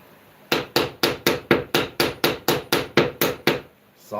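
A hammer strikes fiberglass in a quick, even run of about thirteen sharp whacks, each ringing and decaying briefly. The blows are close and loud with no talking, and a last hit starts just as the sound ends.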